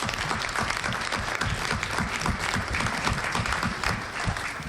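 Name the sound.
audience applause for a congressman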